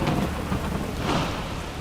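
A thunderstorm with steady heavy rain hissing on surfaces and low rumbling thunder rolling underneath, loud and continuous throughout with no voices.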